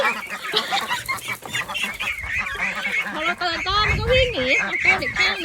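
Loud, busy honking and clucking from ducks and chickens close by on a rural Maryland farm, overlapping calls with a voice briefly mixed in.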